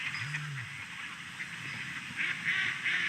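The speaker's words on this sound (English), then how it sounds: "That's just duck chatter." A large flock of ducks chatters on the water with a continuous mix of quacks and honks heard from a distance, plus one low, nearby call at the start.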